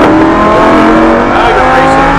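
A Lamborghini Huracan LP610-4 accelerating hard on the Summit Point Motorsports Park race track, its engine a loud, dense, sustained roar heard up close from inside the car.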